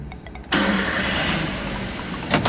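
A Daihatsu Xenia with a K3-VE engine starts during an emissions test, a brief starter crank followed by the engine catching and settling into a steady, loud close idle with no talking.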